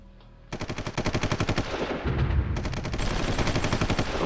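Artillery bombarding troops in the strategy game Supreme Ruler Ultimate: rapid, loud, rhythmic bursts of gunfire in a continuous barrage, with deeper booms rumbling underneath.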